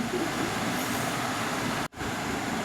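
A train passes along a railway track, heard as a steady, moderately distant rumble and rattle that continues almost without change, with one brief dropout near the end.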